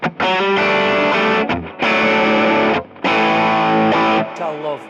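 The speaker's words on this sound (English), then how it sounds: "But previously, I used to have my boogie distortion," Electric guitar played through a Mesa Boogie amp's distortion, thick saturated chords ringing in three long sustained bursts separated by brief gaps, loud and close, ending with a fading decay.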